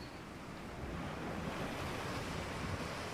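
Ocean surf breaking along the shore, a steady broad wash of rushing water with wind buffeting the microphone, loud and continuous.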